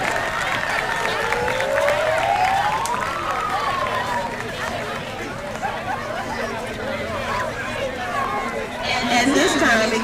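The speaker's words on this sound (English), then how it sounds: "Let's give another round of applause for our breast cancer survivors." Crowd applause at a St. Helena vs Springfield football game honoring breast cancer survivors, sustained clapping and chatter from a large outdoor crowd, with a rising whistle-like tone and an announcer's voice over it.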